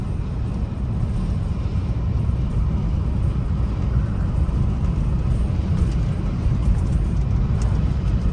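A 1972 Datsun 240Z barn find with original brakes and suspension and steering that shakes under braking, heard as a steady loud engine and road rumble with no talk.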